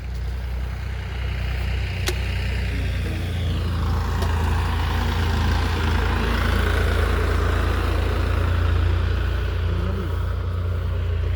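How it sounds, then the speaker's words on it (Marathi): Dad's vehicle engine runs steadily throughout, a constant low rumbling idle that stays even and close from start to finish. "बाबाची गाडी ऑटोमॅटिक चालू झाली"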